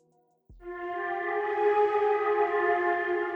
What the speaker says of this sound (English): So in Ethereal Earth, we're using this Eternity preset